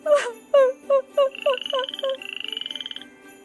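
Frog croaks in a cartoon children's fairy tale: a series of short, bright rhythmic croaks followed by rapid trilling chirps, close and clear with no talk.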